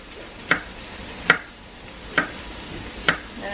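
Four crisp knife strokes slice through a cucumber on a cutting board, evenly spaced about a second apart, close and clear in a quiet kitchen with no talking.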